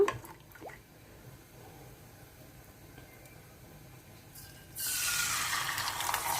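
Ladle of sweet kalathappam batter poured into hot ghee, a quiet spell and a few faint drips, then an abrupt loud hiss bursting up near the end and holding steady.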